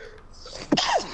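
A single sharp human sneeze indoors, with a brief quiet inhale before it, close and moderately loud.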